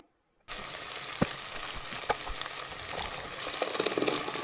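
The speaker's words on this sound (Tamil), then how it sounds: "பச்சை மிளகாய் ஒரு 5-6 பச்சை மிளகாய், நல்லா வதக்கிட்டு" Green chillies sauté in hot oil in a pan for mutton biryani, with a steady close sizzle and crackle starting after a brief silence, plus a few stirring knocks, and no talk.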